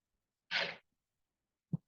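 A single soft sneeze, a brief breathy burst, followed after a pause by a small faint thump or click.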